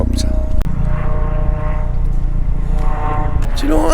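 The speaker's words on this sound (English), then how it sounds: "It's an helicopter." A helicopter passing overhead near a caravan park at Finchale Priory, its steady low engine drone and rotor noise filling the whole clip, with people talking over it.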